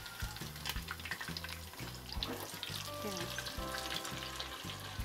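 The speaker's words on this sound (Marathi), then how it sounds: "असं चमच्यानं थोडं थोडंसं वरनं तेल टाकायचं, म्हणजे आपलं चांगलं भाजतं आहे बघा" Restaurant-style tandoori chicken pieces frying in oil in a pan, with oil spooned over them, producing a steady close sizzle with rhythmic bursts of crackling and stirring scrapes, no talk.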